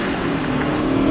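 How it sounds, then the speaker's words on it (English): A supercharged four-cylinder Mercedes-Benz C230 Kompressor Sport engine accelerates with a steady rising drone and hum, heard close from inside the car, with no one talking. "Hit it, supercharger spools right up, and listen"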